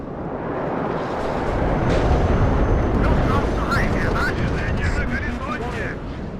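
Dense anti-aircraft fire in the WARNO wartime strategy game: a continuous roar of booming flak bursts and rapid gunfire, loud and sustained, with a voice talking over it.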